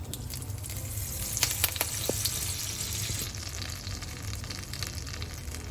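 Butter sizzling in a hot pan over olive oil while making a sauce, a steady broadband frying hiss with faint crackles and a few brief clinks, close and continuous throughout.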